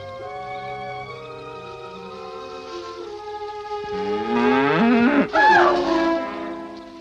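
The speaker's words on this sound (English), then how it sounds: "just a cow" A cow moos in a 1946 film scene, a long, loud, low bellow that swells and bends in pitch toward the end, heard alone with no talk.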